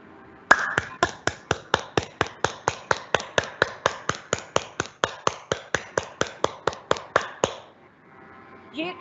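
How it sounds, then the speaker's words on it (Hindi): Full-palm hand clapping as a yoga exercise, about thirty sharp, evenly spaced claps at a brisk steady beat, close and loud, ending with a quiet pause. "तो अभी हम स्टार्ट करते हैं पूरे हाथ से ताली बजाना।"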